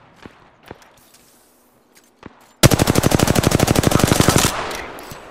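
Automatic weapon fire in Apex Legends: after a few faint scattered taps, a loud, rapid burst of evenly spaced shots starts sharply and runs for about two seconds, then trails off into echo.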